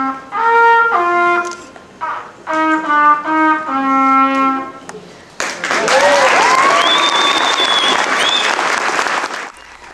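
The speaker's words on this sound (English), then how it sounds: "The audience clapped and cheered" An audience bursts into loud, sustained applause and cheering for a young trumpet player, following a few notes of the Star Wars theme played on trumpet, the clapping dense and continuous to the end.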